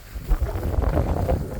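Wind blowing across a rice field after the harvest, a steady low buffeting rumble against the microphone that swells slightly partway through the short stretch, with no voices.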